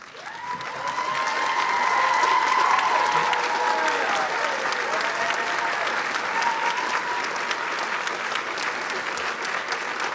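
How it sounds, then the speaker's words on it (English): A large audience at a 2017 college commencement ceremony stands and applauds, a sustained, even wash of clapping that swells and holds for several seconds, with faint cheers early on. "Please stand and by your applause, let them know just how much you appreciate all of them."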